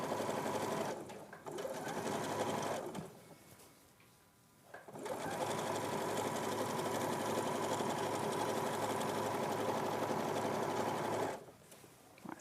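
A sewing machine stitches an armhole in loud, steady bursts of rapid mechanical whirring, pausing briefly twice between runs, with faint talk in the gaps.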